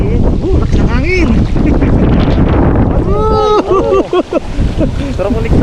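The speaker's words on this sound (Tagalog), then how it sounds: "Laki ng hangin." Strong wind buffets a small boat on open water, a steady roaring rush against the microphone, with people talking loudly over it.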